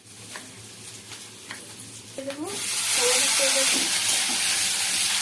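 Onion drops into hot oil in a wok and erupts into a loud, steady sizzle that swells and holds, after a brief spoken word and a few clinks of cookware.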